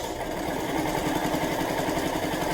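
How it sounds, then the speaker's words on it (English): Sewing machine back-stitching the first seam on a double-sided cloth face mask, a steady close mechanical whirring drone that runs continuously without pauses. "You always want to back stitch your first stitch."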